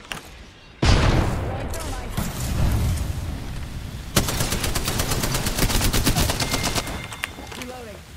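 A frag grenade goes off in the video game Apex Legends with a sudden loud explosion, followed by a long rumbling roar and rapid gunfire. Voices talk briefly around the blast.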